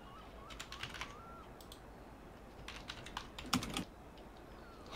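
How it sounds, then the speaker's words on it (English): Quiet bursts of keyboard typing heard over a game voice channel, quick clusters of key clicks separated by pauses, with faint chirpy sounds in the background. "I think she's typing and activating her push to speak"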